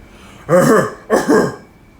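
A voice imitates a parrot's two loud, hoarse, man-like coughs in quick succession, close and harsh, followed by quiet.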